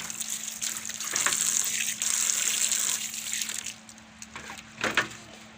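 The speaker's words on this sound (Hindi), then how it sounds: "ये कोल्ड ड्रिंक वॉश करता हूँ।" Tap water runs over cold drink bottles being washed at a shop. Gushing and splashing come in uneven bursts with faint knocks of glass or plastic, and the stream cuts off near the end before a last brief splash.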